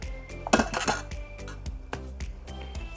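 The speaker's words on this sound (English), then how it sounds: "So we mix it." Utensil clinking and scraping against a bowl while chicken marinade with sesame oil is stirred, a quick burst of clatter followed by softer, irregular knocks close by.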